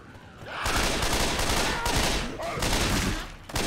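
Shotgun blasts in the zombie shooter Left 4 Dead, a dense barrage of loud, overlapping gunfire and game chaos filling nearly the whole stretch, with brief quieter moments at the start and end.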